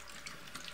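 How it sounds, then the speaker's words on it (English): Dry ice bubbling and fizzing vigorously in water, a steady close watery churn with brief louder splashes, heard alone. "You can hear the bubbles really going wild in there still."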